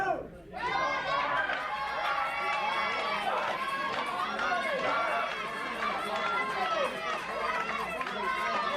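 Wrestling crowd cheering for Brian Logan during a WFS TV Title match against Murphy Costigan, a dense, loud and continuous roar of many voices with chanting and shouts, close and steady throughout.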